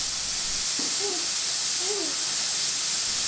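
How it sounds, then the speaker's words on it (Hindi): A pressure cooker with its whistle lifted after cooking beef keema lets out a loud, steady hiss of escaping steam that fills the whole stretch, with a faint voice briefly underneath. "सीटी उठाने के बाद गैस को अच्छे तरीके से खारिज कर देंगे।"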